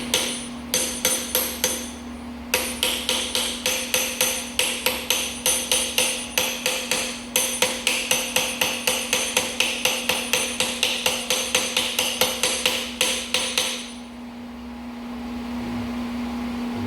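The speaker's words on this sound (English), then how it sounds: "Maybe need a bigger hammer." Rapid, steady hammer strikes ring out on metal while replacing the steering gearbox of a GMC Yukon Denali, dozens of sharp taps in a regular rhythm, close and loud, then stopping, leaving a low hum.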